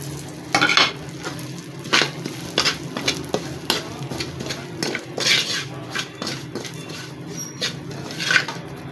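Ground edible gum fries in a little oil for panjiri while a spoon stirs it, giving a soft sizzle under repeated scraping clicks against the pan.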